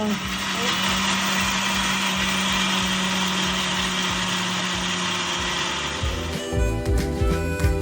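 A kitchen mixer grinder runs steadily, grinding a dry idli podi spice powder of roasted lentils and chillies with a loud, continuous whirring drone, then stops near the end as clatter and voices follow.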